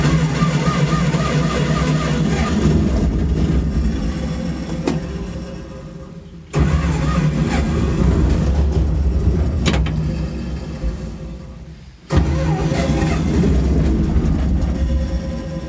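Massey Ferguson 205 combine engine running loud and close with a steady rumble, cutting out sharply twice before catching again, as if sputtering or stalling.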